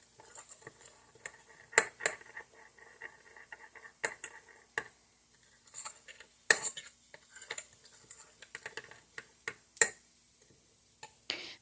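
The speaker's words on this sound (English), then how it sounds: "just stirring that up really good" A spoon stirs a hot dog and rice mixture in a dish, producing quiet, irregular clinks and scrapes with occasional sharper taps, close and faint.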